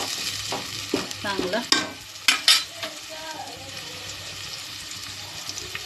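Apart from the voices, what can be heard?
onion frying in hot oil for veg paneer biryani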